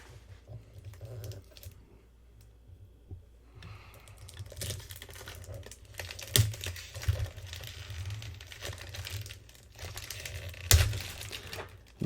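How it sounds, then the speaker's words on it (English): Cellophane wrapping being peeled and torn off a Lattafa Khamrah perfume box, with faint close crinkles and a few sharper crackling bursts against a quiet background. "The cellophane wrapping, as always. A battle to be had."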